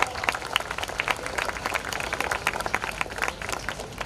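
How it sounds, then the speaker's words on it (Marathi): An audience at a high school annual day prize-giving claps steadily. The dense patter of many hands stays even in loudness and continues throughout without a break. "या बालकांचा उत्साह वाढवण्यासाठी टाळ्या झाल्या पाहिजेत बंधू भगिनींनो"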